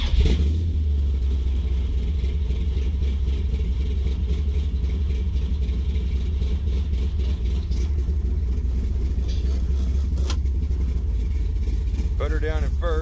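A stroker big-block V8 in a 1973 Plymouth Satellite idles with a deep, loud rumble close by, rising briefly as it is revved, while a voice talks over it near the end.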